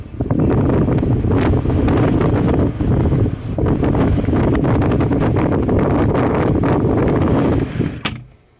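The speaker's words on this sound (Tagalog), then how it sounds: "Walang masyadong ulan, pero malakas yung hangin. Sobrang lakas talaga ng hangin" Strong wind from Typhoon Kristine buffets the microphone in a loud, continuous roar with little rain, barely letting up before cutting off abruptly at the end.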